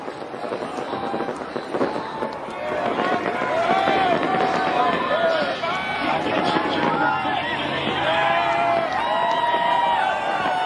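A Midwestern NASCAR race crowd cheers and roars after Kyle Busch's win, a dense sustained din of many voices with whistles and possible firecracker pops, while a commentator talks over it.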